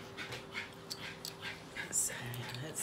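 Small dogs, a chihuahua and a Maltese, panting and snuffling close by at Christmas, soft breathy bursts with faint whimpers while people talk quietly in the background.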